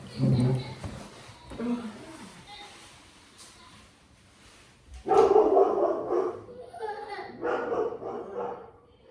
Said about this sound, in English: Could you bring the dogs in here because they're barking outside?